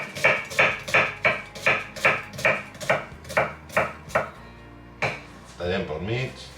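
An onion finely chopped with a knife on a board: about a dozen evenly spaced, solid thunks in a steady rhythm, close and clear, then a few looser cuts and a brief shuffle of pieces.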